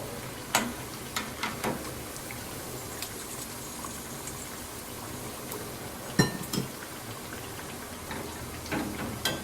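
Soft continuous frying sizzle of potato patties in hot ghee, with intermittent sharp pops and ticks, fairly quiet and close, no talking.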